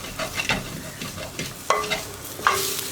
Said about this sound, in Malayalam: അപ്പോൾ അത് നമ്മളൊന്ന് ഇളക്കി കൊടുക്കുക കരിഞ്ഞു പോവാതെ ഇളക്കി കൊടുക്കണം